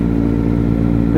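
A Kawasaki Ninja ZX-4RR motorcycle engine idling nearby in a parking area, a loud, steady low rumble with a faint rise at the very end.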